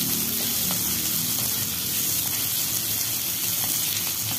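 Onions frying in a pan with urad dal for rava uppittu give a dense, constant crackling sizzle, close and even from start to finish, with no one speaking.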